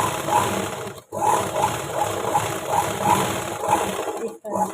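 A sewing machine runs steadily while stitching a hook strip onto a blouse, a close, even whirring hum with rapid needle ticking, broken by two brief pauses, with a voice talking over it.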